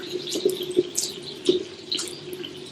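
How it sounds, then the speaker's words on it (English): Water from a sink tap runs and splashes while a face is washed, with a steady faint trickle broken by a few short splashes and drips, close by and without speech. "I like to always wash my face before applying a mask"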